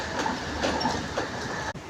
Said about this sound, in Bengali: আজকে কাটোয়া লাইনে এখানে এরকম ফাঁকা ট্রেনের জার্নি